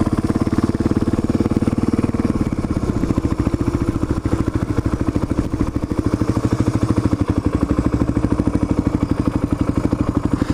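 A 1997 Suzuki DR350SE motorcycle engine runs close by, a loud, steady single-cylinder thump with mechanical clatter that holds evenly throughout.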